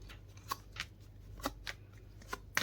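Tarot cards being shuffled and drawn from a deck, a quiet sequence of soft, brief riffles and flicks spaced irregularly, close and faint with no talking.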